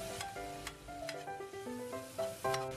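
Side vegetables stir-frying in a pan with hot pot base, garlic, Sichuan peppercorn and bay leaf, a soft sizzle under clinking and tonal kitchen sounds.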